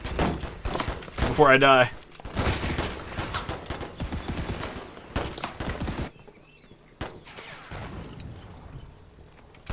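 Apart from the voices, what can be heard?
rifle gunfire in video game Holdfast: Frontlines WW1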